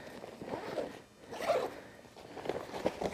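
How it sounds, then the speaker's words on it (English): A portable enclosure bag is zipped closed in a few drawn-out pulls, each a close, rasping zip with brief pauses between strokes. "And then nicely zip."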